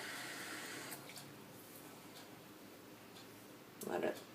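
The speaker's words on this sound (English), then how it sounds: "First, I'm just going to add some water." Water poured into a glass of fermenting cherry tomato seeds, a short splashing burst near the end after a stretch of quiet room tone, close and soft.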